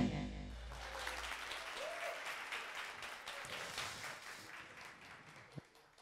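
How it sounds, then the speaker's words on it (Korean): A lecture audience applauds in a hall, giving a modest wash of clapping that holds steady and then thins out toward the end. "박수 소리가 적어요"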